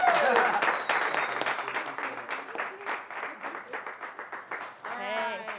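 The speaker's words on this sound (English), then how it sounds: "give her a nice, welcome round of applause" An audience applauds to welcome the owner of Merfs Condiments to the stage at a Capital One Cafe event, with steady dense clapping, a few voices mixed in, and greetings spoken near the end.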